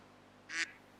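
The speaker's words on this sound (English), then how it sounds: "duck" One short, nasal duck quack stands out against a quiet background, a single call lasting a fraction of a second.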